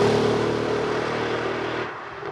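Mercedes-AMG GLE 63 S Coupe (2017) V8 engine droning steadily with a strong low harmonic hum, loud and close, then easing off and fading slightly near the end.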